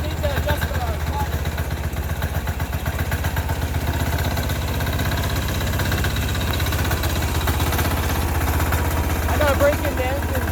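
A Sears Suburban 6HP diesel tractor engine runs steadily at a low, even chug for the whole stretch, close by and fairly loud, with a constant throbbing beat and no pauses.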